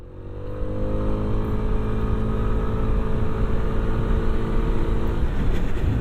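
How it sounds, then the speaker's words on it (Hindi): Hero Xoom 160 maxi scooter engine revved with the throttle, a steady close droning hum with rising harmonic tones that holds at constant loudness for about six seconds, with no voices. "बट उससे पहले एक बार थ्रॉटल देते हैं।"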